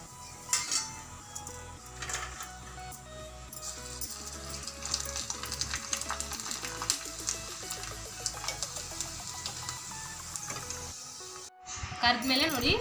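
Mallige hoovina sandige, sun-dried rice crisps, frying in hot oil, a steady dense crackle and sizzle with light utensil clinks, ending in a brief gap then a louder burst.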